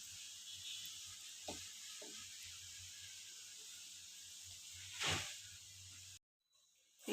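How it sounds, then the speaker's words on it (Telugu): Masala peanuts deep-fry in hot oil with a soft, continuous sizzling hiss, broken by a few faint clicks and a brief louder crackle before the sound drops out near the end. "ఇప్పుడు డీప్ ఫ్రై చేసుకుందాం. ఇలా విడి తీసుకుంటూ ఫ్రై చేసుకోవాలి."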